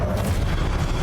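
A brief booming blast from the Confringo fire spell in Hogwarts Legacy, a dense low rumble lasting about a second.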